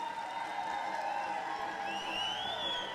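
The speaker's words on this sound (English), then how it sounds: "Can we give yourselves a round of applause, please?" Audience at an elders gathering applauding and cheering, a moderate, steady wash of clapping and crowd noise with scattered calls, heard at a slight distance.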